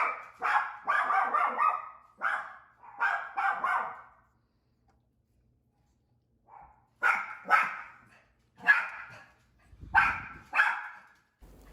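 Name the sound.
dogs barking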